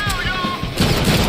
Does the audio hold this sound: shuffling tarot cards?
no